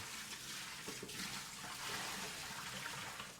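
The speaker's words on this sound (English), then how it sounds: "Make sure it gets all of the soap off of it." Water runs steadily from a tap while a Brita pitcher is rinsed free of soap, a constant close splashing wash with no pauses and no voices.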